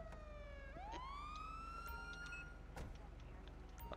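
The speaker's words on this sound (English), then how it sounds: "my siren is just going off" Police car siren in the GTA 5 video game, a loud rising wail that climbs and holds steady, over a constant low engine rumble with a few sharp clicks.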